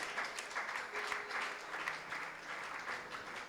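A church congregation applauds at a missionary service, a steady, moderately distant wash of clapping that holds for a few seconds without clear speech.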